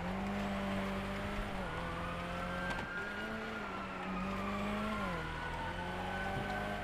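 A race car accelerating hard on a racetrack, its engine note rising and shifting pitch, loud and continuous with a brief dip in the middle.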